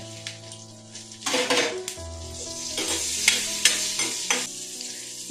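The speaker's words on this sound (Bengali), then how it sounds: "বাটারের মধ্যে ফোড়ন হিসাবে দিয়ে দেব 1/2 চা চামচ মৌরি, আর এই 4টে কাঁচা লঙ্কা আমি চিড়ে রেখেছি, এই 4টে কাঁচা লঙ্কা দিয়ে দেবো এর মধ্যে।" Green chillies and fennel seeds frying in butter in a pan, a steady sizzle with stirring and a few clinks of a spoon against the pot, no voices.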